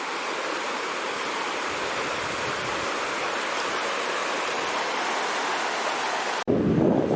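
Fenwick Creek rushes in a steady, close wash of flowing water beside a campsite, loud and unbroken until a sudden shift near the end.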